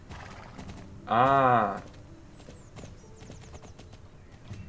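Horse hooves clip-clop steadily in the Star Stable video game, with a short loud whinny near the start and a voice briefly uttering a sound.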